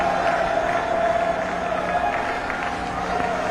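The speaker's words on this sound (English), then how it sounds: "Anil Kumble joining in the applause" Stadium crowd at a Test cricket match between India and the West Indies applauds and cheers a batsman's century, a broad continuous roar of clapping and crowd noise held at a steady level.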